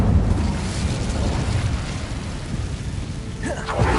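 An Incendio fire spell cast in Hogwarts Legacy gives a dense, roaring burst of flame that rumbles steadily and loudly throughout, with a brief swishing sweep of magic near the end.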